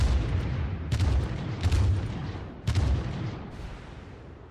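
Deep booming naval gunfire from a heavy cruiser in the World of Warships game, with several loud salvo blasts rolling out over a continuous low rumble, each report decaying slowly with no talk over it.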